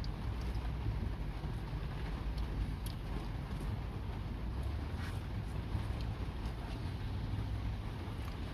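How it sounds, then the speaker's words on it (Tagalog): Dense, steady rushing noise of heavy rain, constant and enveloping with no breaks. "Grabe yung ulan."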